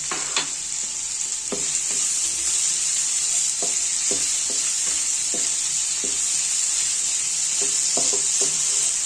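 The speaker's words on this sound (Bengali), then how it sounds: "এখন আর অনেক সময় ধরে ভাজবো না।" Spicy garlic mushrooms fry in a pan with tomato chili sauce, black pepper and salt, giving a steady close sizzle broken by irregular clicks and scrapes of stirring, with no talk.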